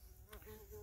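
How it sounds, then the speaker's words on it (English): A bee hovers near a pinwheel outdoors, its faint, steady buzz droning close by for a brief moment. "now I got a bee that's kind of interested in the pinwheel there"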